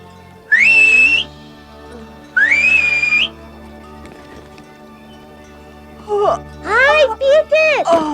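A girl in the mountains whistles through her fingers, two long rising blasts, then a quick series of shorter swooping whistles near the end, loud and clear over quiet background.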